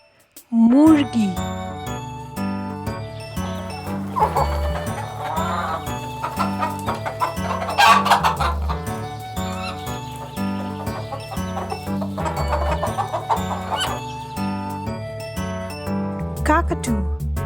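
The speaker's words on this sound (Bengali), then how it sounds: "মুরগি।" A hen clucks repeatedly in short, busy bursts, set under steady, cheerful children's music that plays throughout at a moderate level.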